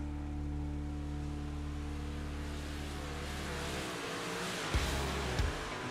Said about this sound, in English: We can hear the cars out on the track.